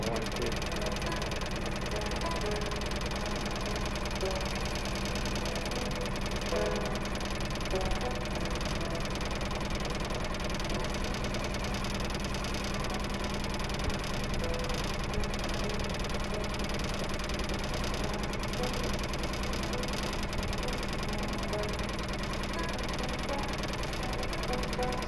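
A Suzuki 6 hp four-stroke outboard motor runs steadily on a flat-bottom boat, giving a constant close buzzing drone with a knocking rhythm and no letup throughout.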